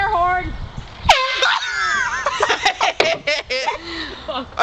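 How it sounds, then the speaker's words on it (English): An air horn blares in one sharp blast amid laughing and shrieking voices, followed by excited chatter and further short honks close by. "She's got an air horn."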